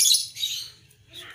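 A Javan myna (jalak kebo) being tamed gives a few short, sharp, shrill chirps in quick succession, close and fairly loud against a quiet background.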